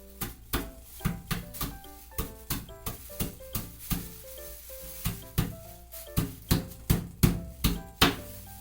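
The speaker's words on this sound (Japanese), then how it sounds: "ちょっと包丁の背の方で砕きましょう。" A series of sharp, hard knocks as walnuts are crushed with the back of a kitchen knife, uneven rhythm, close and fairly loud, with brief ringing after each hit and no talking.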